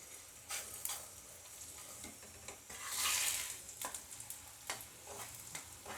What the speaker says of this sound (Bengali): এই দেখুন কত সুন্দরভাবে আমার ভাজা হচ্ছে।